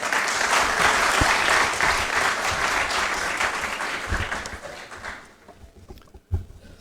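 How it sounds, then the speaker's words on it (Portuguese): A round of applause at a UNITA parliamentary group event in Angola, loud and dense at first. It tapers off after about five seconds, leaving a few isolated claps and a brief knock near the end. "peço uma salva de palmas também."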